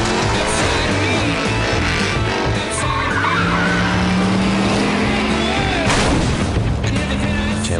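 Loud racing car engine of a 400-horsepower car in the video game Driver: San Francisco roars steadily with tire screeches and crashes, a constant high-energy driving din throughout.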